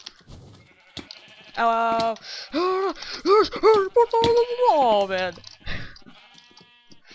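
Sheep bleating in the video game Sheep Quest, several wavering nasal calls in quick succession, loud and close, with a player's brief voice at the start.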